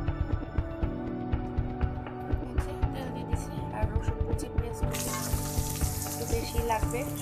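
Oil heats in a wok before dried Bombay duck fish goes in. A rhythmic ticking comes first under a voice, then a broad, bright sizzle swells up in the last couple of seconds.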